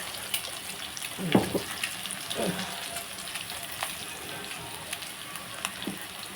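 Garlic chilli paste fries in a pan for an egg fry, giving a low watery sizzle with scattered small pops and a couple of louder spatters, fairly quiet and close.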